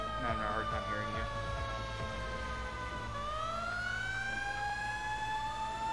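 In a firefighting video game, a fire engine's siren sounds loud and close, a wavering yelp giving way to a long rising wail that continues to the end.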